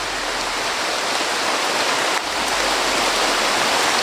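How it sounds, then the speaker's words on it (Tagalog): Heavy rain falls steadily outdoors, a loud, dense, unbroken hiss of pouring water that stays constant throughout, with no talking. "Ito, umuulan na naman."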